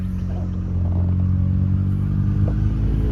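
An old Case tractor engine runs at a tractor show, giving a steady, low, rumbling idle close by with faint background clatter.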